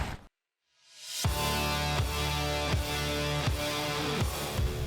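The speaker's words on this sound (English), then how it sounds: "And you can hear the tyres working in the background." Steady broadband road roar from SUV tyres rolling on tarmac while cornering hard, loud and continuous, with a low engine drone and periodic surges underneath.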